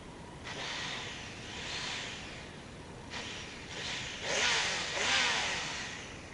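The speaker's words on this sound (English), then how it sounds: "sounds pretty sweet as stock exhaust, to be honest with you" A Honda CBR1100XX Super Blackbird motorcycle with stock exhaust revs in several rising and falling bursts, moderately loud and fairly close, with a steady idle between pulls.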